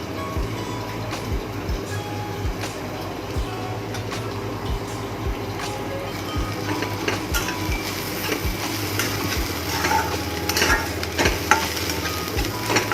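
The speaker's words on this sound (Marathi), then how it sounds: "तर आता मी इथं जिरे टाकते." Cumin seeds hit hot oil in a heated kadhai, giving a continuous sizzle with repeated low thumps and clatters of stirring, fairly close, with no speech.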